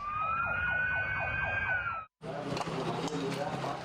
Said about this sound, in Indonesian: Sirine dibunyikan